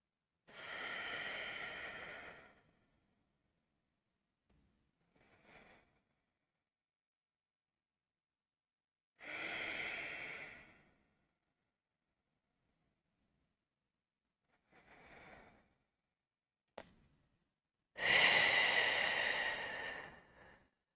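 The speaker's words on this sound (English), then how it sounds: "We're going to take 5 deep breaths." Slow deep breaths taken while holding a reclining pigeon yoga pose, several long audible inhales and exhales separated by quiet pauses, close and fairly soft, with no talking.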